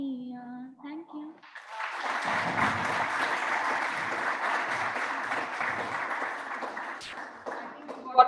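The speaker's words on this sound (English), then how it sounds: "Got the loudest applause, Karishma." Audience applause after a song performance at a college induction event, a sustained burst of clapping building quickly after brief talk and fading out over several seconds.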